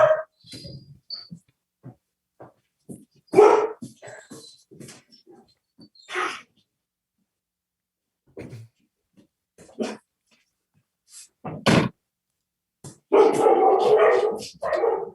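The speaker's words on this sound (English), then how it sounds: "they're going to bark for a bit because someone's come to clean out the dog pen" Several dogs in a dog pen bark in scattered bursts as someone arrives to clean it, with short loud yaps and pauses between volleys, close by, ending in a longer flurry of barking.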